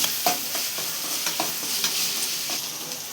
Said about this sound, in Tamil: வெங்காயம் நல்லா வதங்கிறதுக்காக நம்ம கொஞ்சமாக உப்பு சேர்த்துக்கலாம்